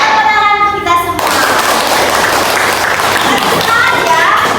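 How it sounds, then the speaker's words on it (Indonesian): In a classroom chant, a group claps their hands while children's voices chant along. The clapping runs through a busy, loud mix of voices and hand sounds, with tonal singing at the start and again near the end. "tepuk tangan untuk kita semua"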